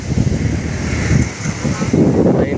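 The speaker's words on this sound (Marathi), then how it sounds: "एवढी हवा एवढी स्पीडमध्ये चालू आहे का मला" Strong wind blows steadily at a dam, with a waterfall ahead, buffeting the microphone in a loud, continuous low roar that swells in gusts.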